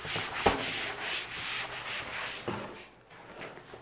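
Writing being wiped off a board in a chemistry lesson, heard as a few broad, scratchy back-and-forth rubbing strokes with a small knock early on, close and moderately loud, with no talking.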